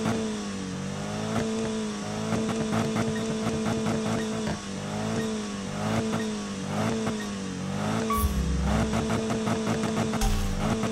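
Race cars roar through a Need for Speed drag race, engines revving up and down in rising, repeating pitch sweeps as gears shift, loud and close, with a brief thud near the end.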